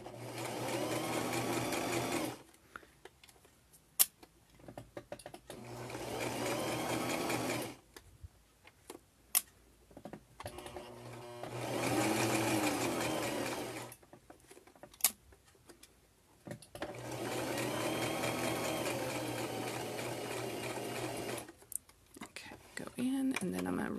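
A sewing machine fitted with a zipper foot stitches an earbud pouch in four steady runs separated by pauses, with sharp clicks and a soft voice talking during the gaps.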